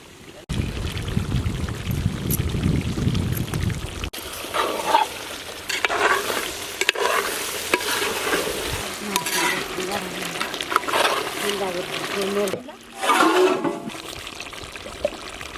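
Chicken fries in a pan in a village kitchen, stirred with frequent scraping and clatter over a steady sizzle. Brief louder bursts stand out, and faint voices come and go.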